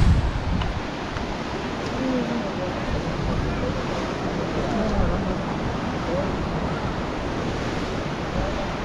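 Sea surf rolls onto a beach at a sunset point at Devghali, Kasheli, Rajapur on the Konkan coast, heard as a steady, loud, broadband wash mixed with wind noise on the microphone throughout.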